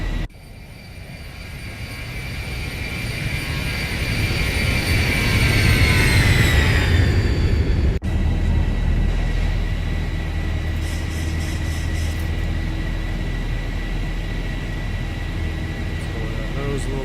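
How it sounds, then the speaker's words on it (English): A jet airliner makes a Veterans Day salute flyby along the River Visual approach at Washington National (KDCA). The roar swells as it nears, the engine whine drops in pitch as it passes, then a steady heavy rumble carries on. "One more flyby."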